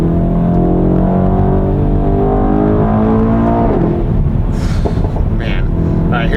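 A 2018 Mercedes-AMG E63 S Edition 1 4MATIC+ drives along a road, its engine a loud, close, rich drone that shifts pitch as it pulls, with road and wind noise underneath.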